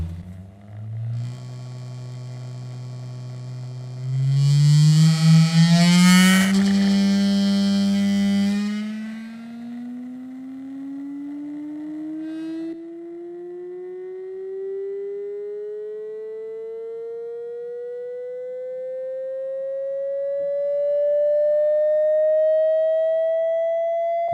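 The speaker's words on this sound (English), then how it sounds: "Now let's do an upward sweep of frequencies and see how it behaves." Through a loudspeaker, a pure test tone sweeps steadily upward in pitch. It is joined by a brief buzzy, harsher burst early on, then continues alone as a clean, rising whistle that grows slightly louder.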